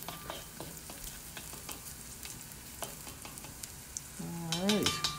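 Fried rice ingredients with ginger browning in a pan give a quiet, close sizzle dotted with light scraping ticks. A brief rising tonal squeal appears near the end.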